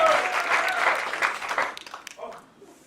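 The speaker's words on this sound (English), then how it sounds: "Massive round of applause, Mr." Conference crowd applauding at a property event, a dense burst of clapping and cheering that thins out and fades after about two seconds, with voices mixed in.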